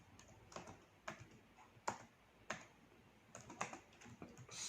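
Python code is typed on a computer keyboard in scattered bursts of distinct, close keystrokes with uneven pauses, fairly quiet and with no talk.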